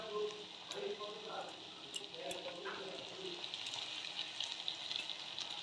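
Vegetables, curry leaves and spices frying in a pan, a steady close hiss of sizzling with some stirring scrapes, under faint background voice.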